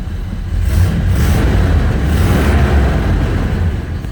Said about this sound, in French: Voilà, elle démarre instantanément. Un très bon régime, on est à 700-750 ici.